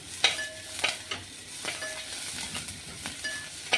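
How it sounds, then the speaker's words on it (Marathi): Onion frying in a pan for a Konkan wild vegetable dish: a soft steady sizzle with spaced, clinking stirs and scrapes of a spoon, close and without talk. "कांदा चांगला लालसर परतल्यानंतर"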